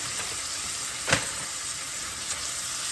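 Mixed vegetables fry in a pan for vegetable quinoa, giving a steady crackling sizzle, with one sharp stir or clatter near the middle and a smaller one later, and no talking.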